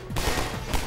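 Rapid gunfire in the video game Half-Life 2, a brief dense burst of shots filling the moment, loud and close.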